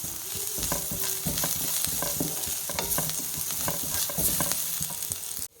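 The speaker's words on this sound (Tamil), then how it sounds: "சேர்த்துட்டு நல்லா மிக்ஸ் பண்ணி நல்லா வதக்கிக்கலாம்" Curry leaves and turmeric sauté in an oil-filled pan, a steady loud sizzle with repeated scraping stirs of a spoon, close and continuous without any voices.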